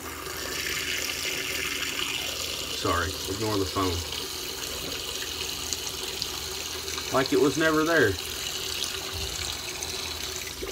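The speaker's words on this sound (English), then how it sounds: "Going to turn the hot water on." A hot water tap runs steadily with a broad hiss of flowing water, while a voice speaks briefly over it twice.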